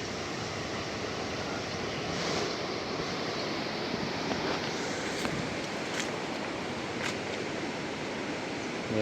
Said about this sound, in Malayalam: ആ ഒരു സ്പിൽവേ കാണുന്നില്ലേ അതിലൂടെയാണ് വെള്ളം വന്നുകൊണ്ടിരിക്കുന്നത്